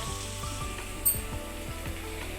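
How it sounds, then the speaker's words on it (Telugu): Onions frying in a pan give off a soft, continuous sizzle, heard fairly close and steady, over a faint low background hum with a few small clinks. "ఉల్లిపాయలు అయితే ఇలాగా వేగుతున్నాయండి"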